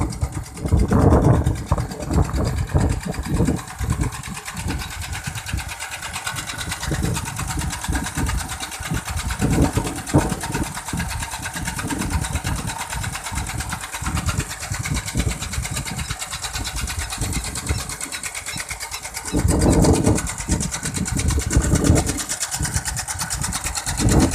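An engine-driven water pump runs outdoors in a rice field, its loud, steady mechanical chatter rising and falling slightly while it pumps water.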